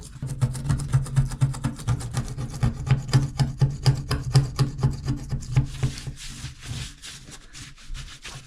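A plastic scraper drags in quick, rhythmic strokes across a bathroom sink surface, scraping off old residue before a new faucet goes in; steady close scratching for about six seconds, then a few slower, lighter passes.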